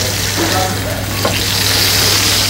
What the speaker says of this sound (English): Everything is sauteing now.